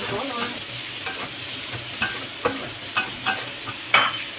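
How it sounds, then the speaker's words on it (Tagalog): Onions sizzle in melted butter while a utensil stirs them in the pan, sharp scraping clicks sounding every second or so over a steady quiet hiss. "Lagay natin yung sibuyas. Nasa butter ba? Mix lang natin hanggang mag-golden color."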